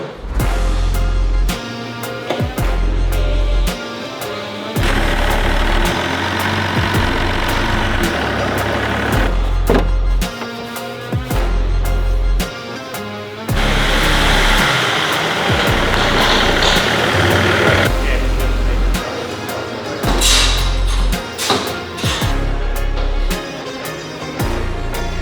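A Chevy LS3 V8 engine fitted in a Land Rover Defender revs hard and roars loudly and continuously, its throttle surging in repeated bursts with gear-change dips throughout, with no talk over it.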